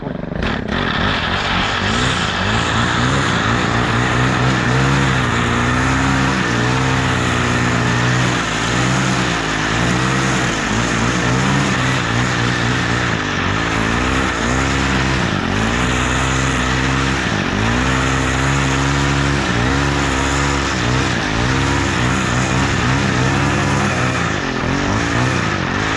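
A Stihl FS130R brush cutter with a faulty clutch that keeps the shaft spinning, its small two-stroke engine droning steadily and loudly close by, pitch wavering slightly throughout with no talk.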